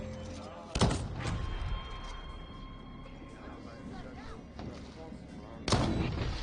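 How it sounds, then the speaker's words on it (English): Warning gunshots fired in the Deathloop video game on PS5, two sharp loud booms several seconds apart over a background of game ambience and low rumble. "Give a warning shot."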